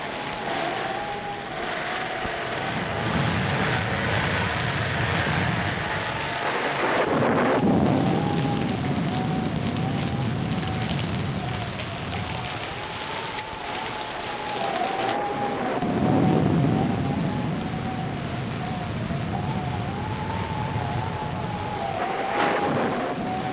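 A storm with thunder and wind roars steadily, swelling and easing in long gusts and rumbles, with a thin high tone wavering through much of it and no talk.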